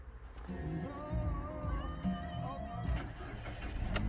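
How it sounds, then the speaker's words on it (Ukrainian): A Mitsubishi Outlander engine cranks and catches via keyless start, then settles into a steady running hum, with a voice speaking over it. "Автомобіль заводиться з півоборота"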